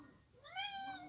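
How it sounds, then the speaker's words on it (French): A pet cat meows once in a rising-then-falling call, fairly close and moderately loud, over a quiet indoor room with no talking. "il y a mon chat"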